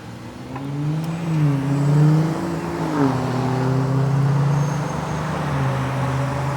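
Cars pass one after another along Wolf Road in Des Plaines, Illinois, heard from an e-bike, their engine whir rising and falling as they go by, fairly loud and steady with no talk over them.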